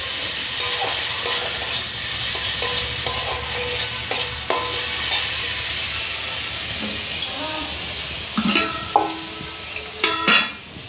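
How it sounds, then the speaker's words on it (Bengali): Spices with salt, turmeric and a splash of water being sautéed and stirred in a pan for Bengali cabbage curry with coconut: a steady sizzle with scattered scraping stirs and clinks, louder knocks near the end. "জল দিয়ে আমি ভালো করে কষিয়ে নিচ্ছি"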